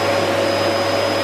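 A vacuum cleaner runs steadily while an apartment is vacuumed: a loud, constant motor whine with a droning hum, close by, with no voices.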